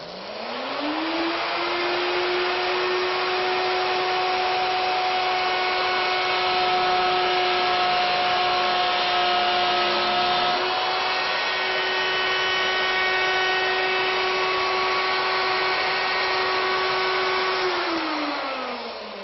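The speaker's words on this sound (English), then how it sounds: "I'll just plunge the V-groove bit down to the surface of the wood on my headstock" A router fitted with a V-groove bit cuts flutes into a wooden pedestal piece. Its motor spins up to a loud, steady whine, holds for about fifteen seconds and then winds down.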